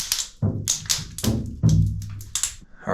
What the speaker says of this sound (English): I freeze a bunch of water bottles and just dump those in the water